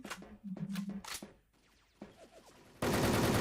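A video game gun fires a short, loud burst near the end, following several voiced exclamations earlier on.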